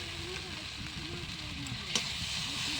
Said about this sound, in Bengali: তেল দিয়ে দিচ্ছি।